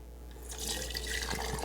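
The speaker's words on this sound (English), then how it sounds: "I'm going to drain off this liquid." Corned beef cooking liquid is drained from an Instant Pot, a faint trickle and pour of liquid that swells slightly after a quiet start.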